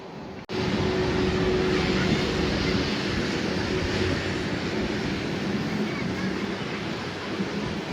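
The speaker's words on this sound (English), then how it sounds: "next up is Southwest 2463 coming in from Baltimore, Washington on a 737 MAX 8" A Southwest Boeing 737 MAX 8 landing, with a broad, sustained jet roar that starts abruptly and holds loud and steady, easing slightly toward the end with no talking.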